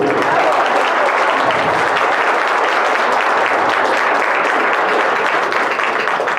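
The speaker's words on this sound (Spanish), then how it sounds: "Con un fuerte aplauso" Steady, dense applause from a large audience at an academic debate, sustained and loud throughout with no pauses.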